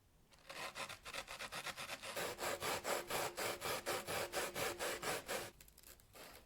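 Steady back-and-forth rasping of coarse-grit sandpaper on wood, about twenty quick rhythmic strokes, close and fairly loud, no voices.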